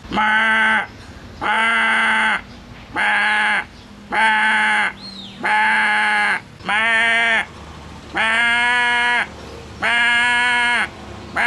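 A Marathi mimicry artist imitates a sheep's bleat with his voice: around nine long, loud, wavering bleats repeated at a regular pace with brief pauses.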